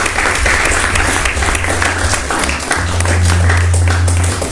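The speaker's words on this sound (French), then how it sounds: "On va l'aider avec beaucoup d'applaudissements." An audience at a live midday broadcast gives a loud, sustained round of clapping, dense and continuous, with a low droning tone underneath throughout.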